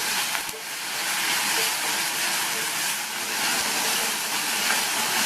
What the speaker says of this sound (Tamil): கட் பண்ண ஒரு மீடியம் சைஸ் தக்காளி சேர்த்திருக்கேன். இதையும் வதக்கிக்கலாம்.